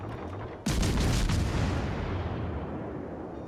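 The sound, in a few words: cruiser guns firing in naval video game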